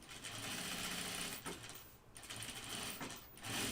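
A domestic sewing machine stitches a Blanca Flight Suit in steady whirring runs, pausing briefly twice between bursts, close and continuous with no talking.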